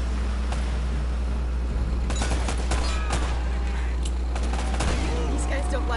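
Gunfire in an Uncharted: Drake's Fortune shootout, with sharp shots and bursts cracking out repeatedly over a steady low rumble, dense and close throughout.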